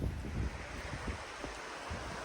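A river flowing steadily beside a tarp and bivy camp on the Cheviot border ridge at sunrise, a continuous broadband wash of moving water with some wind buffeting, moderately close and with no talking.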